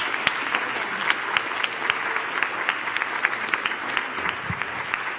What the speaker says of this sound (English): I think we need to give a round of applause to this extraordinary panel and to Bonnie.